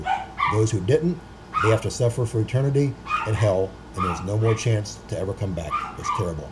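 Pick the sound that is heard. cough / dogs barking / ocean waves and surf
dogs barking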